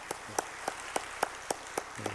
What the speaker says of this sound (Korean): 뜨거운 박수로 한번 격려하십시다.